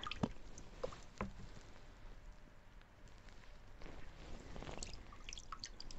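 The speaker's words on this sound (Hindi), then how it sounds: "ओके, तो I am dipping this glass with paper into water." A glass wrapped with paper is dipped into water, giving soft, faint drips and small wet splashes at irregular moments against a quiet background hiss, with no talk.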